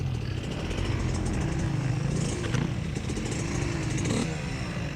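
A dirt bike engine idles and revs steadily at close range during an off-road race, a continuous buzzing drone with slight swells in pitch, heard on its own without talk.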